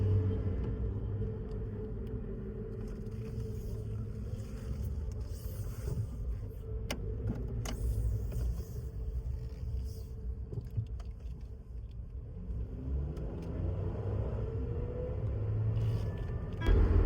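A car interior on a drive toward Dubai, with a steady low engine and road rumble that swells slightly as the vehicle gets moving, heard from inside the cabin without talking.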